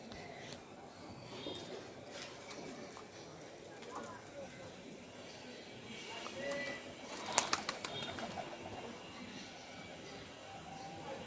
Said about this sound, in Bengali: চারটে পায়রা উড়িয়েছি